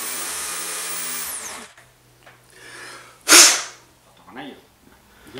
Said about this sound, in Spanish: Al final taladro y broca.